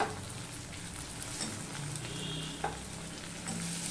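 Onion, garlic, ginger, green chilies and tomato fry in a pan for Bengali khichuri, giving a steady soft sizzle with faint stirring scrapes, heard close up and without talking.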